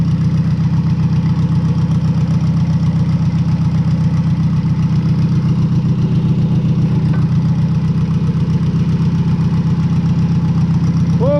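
An International 484 tractor engine idles steadily and close by, a loud, even low-pitched rumble with a fine rapid pulse that holds unchanged throughout with no voices over it.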